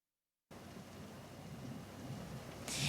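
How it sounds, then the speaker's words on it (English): Steady rain pours during an evening thunderstorm, a dense hiss that starts abruptly and swells louder toward the end, heard alone without voices. "you can still see that rain coming down right now"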